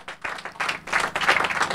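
An audience applauds Bernard Friot after a long talk, the clapping starting sparse and uneven and quickly building into a fuller, closer round.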